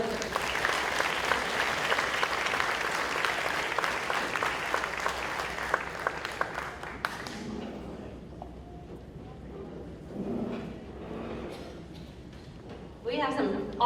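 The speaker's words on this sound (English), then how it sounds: "let's give them another round of applause" Luncheon guests at a Chamber of Commerce event give the presenters a loud round of applause that fades out after about seven seconds, leaving scattered claps, room noise and brief talk.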